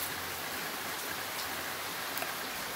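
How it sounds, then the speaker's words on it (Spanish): Steady rain falls outdoors, a dense, even hiss of drops that stays at the same moderate level throughout, with no talking. "cómo está lloviendo"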